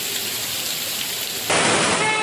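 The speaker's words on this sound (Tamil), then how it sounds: "பகுதிகளில் பரவலாக மழை பொழிந்தது" Widespread rain pouring steadily over suburban villages in Tamil Nadu, a dense even hiss that grows louder and heavier partway through, with no voices.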